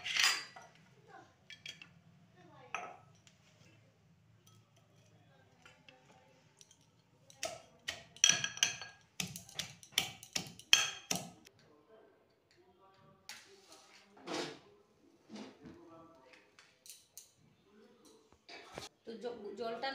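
Chopped elephant apple (chalta) pounded in a mortar and pestle, sharp clinking thuds coming in irregular bursts, with a voice talking at the start and between strikes.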